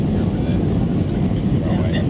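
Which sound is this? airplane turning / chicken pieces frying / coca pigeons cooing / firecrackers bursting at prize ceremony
airplane turning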